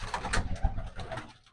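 Pigeons coo close by in a short burst of soft, throaty, rolling calls.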